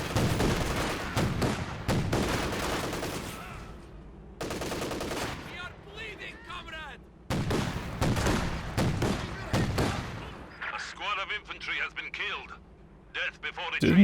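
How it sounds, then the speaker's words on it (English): Flak Panzer autocannon fire against conscript infantry out in the open in Company of Heroes 2, rapid loud bursts of gunfire separated by pauses, with game radio chatter and voices between volleys. "now we're testing the revised Flak Panzer against conscripts out in the open"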